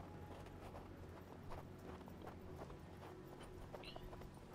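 Horse hooves clip-clop steadily in the Western video game Hard West II, a quiet, continuous patter of footfalls over a low background bed of game ambience.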